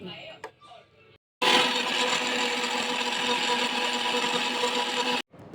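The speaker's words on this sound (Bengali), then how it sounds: "জিরে আদা টমেটো লঙ্কা সব বেটে নিচ্ছি" Cumin, ginger, tomato and chilli are ground into a spice paste for a fish curry, heard as a loud, steady whirring grind lasting a few seconds between short pauses and quieter handling noise.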